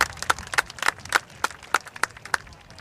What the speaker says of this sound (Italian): Il tributo, l'applauso del pubblico alla cavalleria sarda